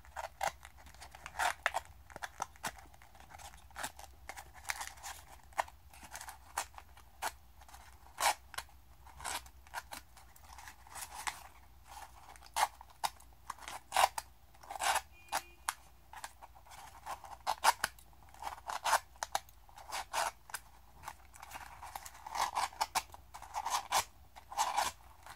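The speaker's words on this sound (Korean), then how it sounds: "이 뾰족뾰족 나온 꽃잎을 가위나 볼펜 같은 걸로 굴려줍니다" Scissor blades or a ballpoint pen curling pointed paper rose petals for an origami lollipop flower, heard as a steady run of close, crisp paper scrapes and crinkles, no voices.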